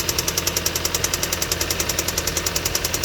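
An Audi engine with a faulty tensioner pulley runs steadily, a rapid regular ticking knock repeating over the motor's hum, close and constant with no one speaking.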